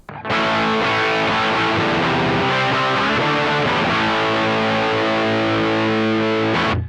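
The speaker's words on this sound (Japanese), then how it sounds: "こんな感じで非常にブーミーな音にもなります。" An electric guitar played through a BOSS BD-2W Blues Driver overdrive pedal with the gain raised gives a thick, boomy distorted tone, loud and sustained as chords ring out for several seconds with no talking.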